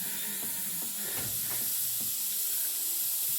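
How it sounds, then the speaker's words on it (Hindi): A pressure cooker full of vegetables hissing steam in a small home kitchen, a continuous loud breathy hiss with a few faint clinks underneath and no talking. "कुकर में सब्जी लगी है"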